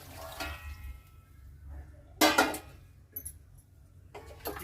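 Water splashes into mutton cooking in a pan for an Agri-style khalbatta mutton, with a short loud pour midway and another brief splash near the end over a quiet background.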